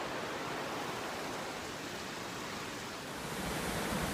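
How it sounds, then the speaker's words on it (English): Spring river waterfall on the Little North Santiam, tons of water pouring down between rocks, a steady broadband roar heard from a distance, constant and unbroken throughout with no voices. "There's just tons of water coming down, and then it drops out right down there in between those rocks."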